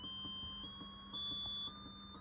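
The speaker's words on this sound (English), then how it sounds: "buzzing the buzzer" A steady high-pitched electronic tone from a buzzer on a Raspberry Pi Pico sounds continuously, with a slightly louder stretch in the middle, thin and faint against a low background hum.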